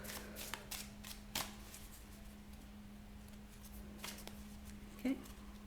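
Tarot cards are shuffled quietly at close range, giving a few sharp riffles and taps spaced across a low, faint room hum.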